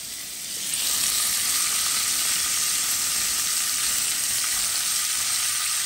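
Chopped tomato dropped into hot oil in a pan while cooking koi fish, a loud close sizzle that swells after a moment and then holds as a steady, even frying hiss.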